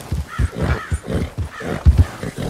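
A White Arabian horse in the video game Red Dead Redemption 2 neighs and whinnies repeatedly up close and loud, with snorting bursts and hoof clatter mixed in.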